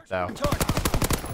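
A PPSh submachine gun in Call of Duty: WWII fires a fast, evenly spaced burst of about ten close, loud shots, briefly preceded by a spoken word.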